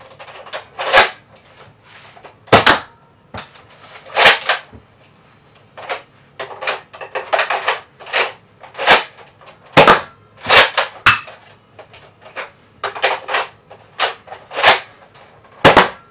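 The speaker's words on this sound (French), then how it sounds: "Donc là, on va tirer les autres cartouches." A Nerf Elite Trilogy DS-15 blaster fires foam dart shells: a long series of sharp, loud, close clacks and snaps, some single, some in quick pairs, spaced irregularly with quiet gaps between shots.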